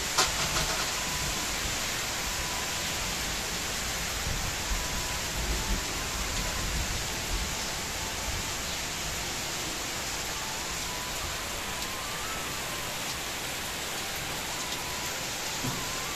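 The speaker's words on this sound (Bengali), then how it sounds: "বৃষ্টি তো কোনো নামগন্ধই নাই কমার" Heavy rain pouring down continuously, a dense, even roar of drops on surfaces that holds steady for the whole stretch with no voices.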